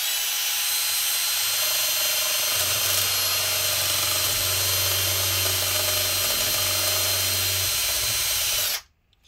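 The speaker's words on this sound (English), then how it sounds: "I guess I do have to just keep trying the drill." A power drill whirring steadily as it drills out a stuck screw on a Dell Inspiron 5575 laptop, loud and close, the motor pitch dipping slightly under load before cutting off abruptly.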